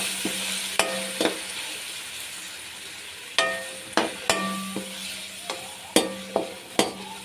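Peas stirred into a pan of frying spices for pulao, a steady sizzle under repeated sharp scrapes and clinks of a spoon against the pot, close and uneven in rhythm.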